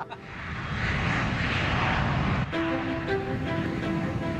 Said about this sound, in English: Takeoff's confirmed, runway 36, full length.